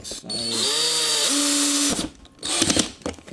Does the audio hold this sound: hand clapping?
no